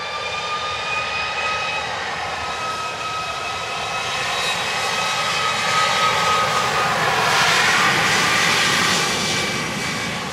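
An airliner passes near the runway during plane spotting, its engine roar swelling to a peak and then easing. A steady high whine rides above the broad rumble, with no voices.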